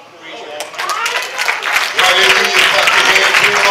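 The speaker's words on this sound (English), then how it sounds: "Clap your hands to the Lord." A church congregation clapping along during a preaching service, dense rhythmic handclaps building and growing louder, with voices and singing mixed in.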